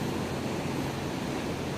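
Sea heard from aboard a ship: a constant broad wash of waves and rushing wind, loud and unbroken, with no voices.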